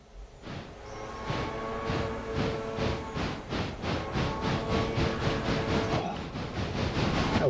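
Diesel locomotives pulling a train in Railroader, a loud steady engine drone with rhythmic wheel clatter over rail joints, running continuously and close.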